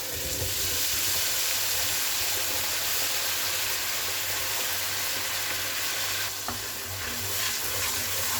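Ginger, garlic and onion paste sizzles steadily in hot oil in a pan for an egg dum biryani, a continuous loud frying hiss with faint stirring scrapes and no voices.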